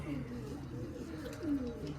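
Soft, low pigeon cooing close by on a rooftop, a couple of throaty rolling calls with a person speaking quietly underneath.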